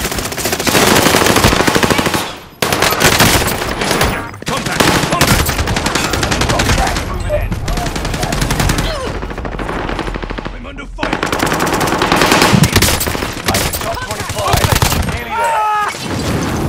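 Sustained automatic machine gun fire rattles loudly and almost continuously in Call of Duty: Modern Warfare online combat, with brief gaps between bursts and other gunfire layered in.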